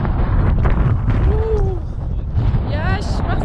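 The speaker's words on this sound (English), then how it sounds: "Sturm, Sturm, Sturm ist hier." Loud, constant wind on a plateau of Mount Olympus, Greece, buffeting the microphone with low rumbling roar; faint voice-like tones surface briefly.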